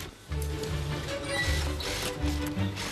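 Sewing machine stitching fabric panels together in a busy workshop, a steady mechanical whirring with rhythmic pulses, fairly close and continuous after a brief quieter start.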